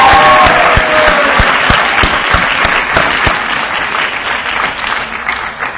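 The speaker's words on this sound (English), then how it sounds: "Graduates, give your parents a round of applause" A large audience at a high school graduation ceremony applauds the parents, a dense, loud wash of clapping that swells at once and slowly tapers off, with a few sharp claps standing out near the microphone.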